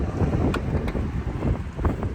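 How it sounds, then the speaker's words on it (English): Wind blowing outdoors on a breezy day, a steady low roar buffeting the microphone with gusty swells and a few brief thumps, loud and continuous throughout. "It's a little more windy here than it was at home when we left"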